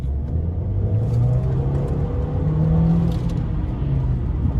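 A 2.0 TFSI Audi engine with a stage 2 tune rumbles steadily while driving, low and close, with slight rises in revs and no talking.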